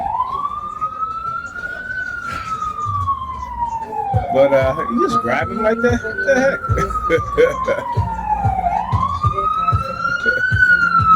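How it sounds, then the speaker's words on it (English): An ambulance siren rises and falls in slow wailing sweeps, loud and continuous, with traffic noise and a person talking over it. "Another ambulance again."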